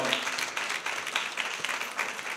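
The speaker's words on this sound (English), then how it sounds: "Please give him a big round of applause" A hall audience claps steadily for an honoree at a recognition ceremony, a dense, even wash of many hands lasting throughout with no talk over it.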